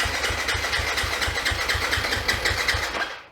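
Yamaha YZ250FX dirt bike engine firing up on choke after reassembly: a close, steady, rapid single-cylinder thumping at a fast idle, loud and continuous for a few seconds before cutting off.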